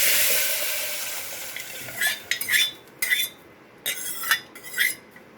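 Rasam mix pours into a hot pan of curry leaves and hing with a brief sizzle, followed by several sharp metallic scrapes and clinks of a spoon against the pan.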